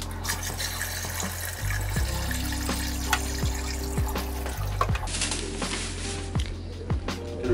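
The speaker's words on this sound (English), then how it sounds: "We're now going to use this tank to just fill it the rest of the way." Tap water running steadily as it fills the rest of a betta fish tank, a continuous close splashing pour with a few clinks and knocks along the way, no voices.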